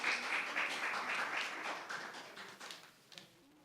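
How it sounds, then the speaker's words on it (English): Audience at a business alliance meeting applauding a speaker as she comes up, a dense burst of clapping that thins out and fades over a few seconds, heard from across the room. "let's give her a round of applause as she comes"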